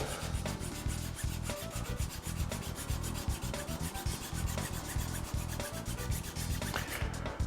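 A metal file rasps back and forth on a slot car chassis part, fitting a pod cradle on a Ninja-level chassis: a steady stream of close, rapid scraping strokes with a rhythmic texture, no talk.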